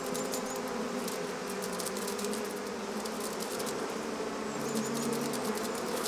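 Honeybees from an opened hive of some 50,000 bees hum steadily and loudly up close, a dense continuous buzz with no talk over it.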